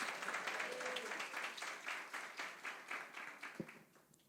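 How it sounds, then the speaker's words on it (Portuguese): A church congregation at a celebration service applauds in rhythmic, unified claps that pulse steadily, with faint voices mixed in, gradually thinning and fading toward the end. "Diga amém, aplauda Jesus."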